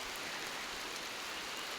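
Steady rain falls on a mountain in a dense, even hiss, a constant wash of drops with no other sounds standing out.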